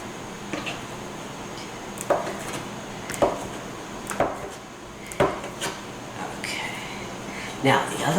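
A knife cuts a block of cheese into small pieces for macaroni on a home kitchen board, giving several sharp, irregular chopping taps close by over a low background hum.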